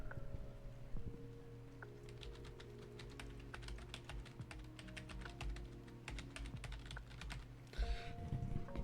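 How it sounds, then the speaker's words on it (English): Steady rapid typing on a computer keyboard, close and crisp, a run of quick clicky keystrokes over a low background hum with no talking. "Tell me if you can hear my keyboard."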